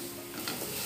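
Masala sautés in oil in a pan with a dense, steady sizzling hiss and faint stirring scrapes, a short close burst with no voices.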